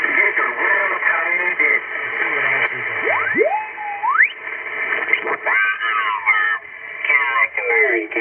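A 2-meter simplex radio transmission carries a voice through an echo box effect, the speech repeating and smearing, with a sweeping warble rising in pitch partway through over steady static.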